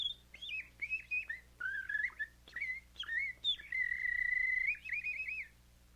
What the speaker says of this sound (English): At that moment, a small bird flew up gibbering.